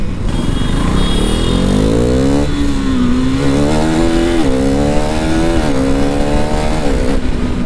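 Sport motorcycles with full fairings roar loud and close in a drag race, engines revving hard with rising pitch sweeps and repeated gear-shift steps, continuous throughout.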